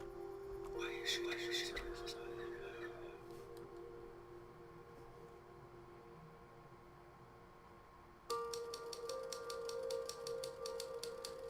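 Typewriter keys clack in the video game The Novelist, a brief burst of strikes early on and a denser run of rapid clicks near the end over a steady musical drone, with a voice speaking.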